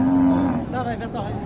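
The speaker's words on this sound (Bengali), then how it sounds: "এগুলো ক্রস ভালো মানের সাইওয়ালের সাথে ক্রস গরু" Sahiwal cross cow at a cattle market, a single close, low drawn-out moo followed by faint background murmur.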